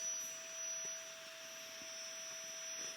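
A Vacbird vacuum pump draws air out of a storage bag with a steady, quiet whine and a faint constant hum, running alone without pause.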